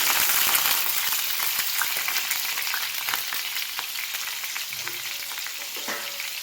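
Washed fish eggs dropped into hot oil in a pan, a loud, steady crackling sizzle with scattered pops and spatters, gradually easing slightly.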